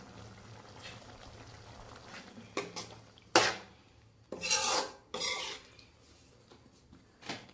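Hands rub coriander leaves over a simmering capsicum curry, making a few quiet, dry rasping bursts against a faint low background, with short pauses between each rub.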